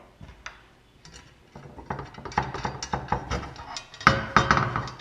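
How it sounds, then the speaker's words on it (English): A bolt being tightened on a fusebox plate gives a rapid run of ratchet clicks that grows louder and denser, ending in sharper metallic ticks close by. "you see how I want to tighten this down and it started spinning"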